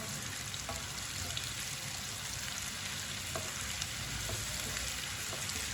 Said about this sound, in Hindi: प्याज को हल्का सा ब्राउन कर लेंगे। इसे हल्का सा ब्राउन करना है